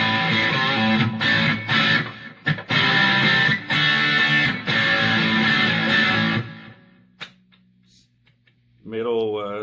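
Electric guitar on its humbucker pickup plays through a Boss DS-2 Turbo Distortion pedal, a loud, thick distorted tone in chords with brief stops, fading to near silence before a last wavering note rings out.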